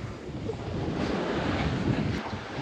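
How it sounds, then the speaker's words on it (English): Strong wind of about 15 knots blows across a remote Great Barrier Reef island shore, a steady, loud rush buffeting the microphone, with the sea faintly beneath it. "It's still blowing like 15 knots at the moment"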